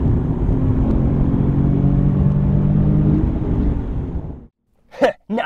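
Car engine revving hard during a heel-toe downshift: a loud, steady high-revving drone that drops off abruptly, then a brief short blip after a moment of silence.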